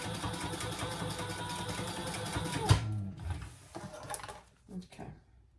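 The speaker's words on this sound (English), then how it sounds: "I'm going to stitch that closed before it does anything else" A sewing machine stitches a leather waist pack pocket shut, running in a steady mechanical whir that stops abruptly partway through, followed by quieter handling sounds and a little talk.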